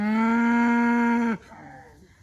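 A single long, loud moo from a cow grazing in a field, held steady before breaking off abruptly, with quiet outdoor background after.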